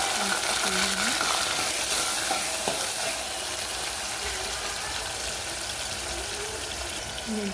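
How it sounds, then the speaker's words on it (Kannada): Chopped potatoes frying in a pan for upma give off a continuous, even sizzle held at a steady level for several seconds, close up, with no one speaking. "ಈಗ ಹೆಚ್ಚಿಟ್ಟಿರುವಂತಹ ಆಲೂಗಡ್ಡೆಯನ್ನು ಹಾಕಿಕೊಳ್ಳೋಣ"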